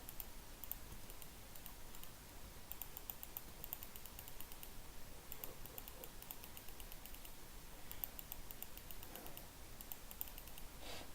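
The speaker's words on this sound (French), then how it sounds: "Désolé si vous entendez beaucoup les clics de mon clavier." Computer keyboard keys click in a steady stream of light, quiet taps during typing, with no talking over them.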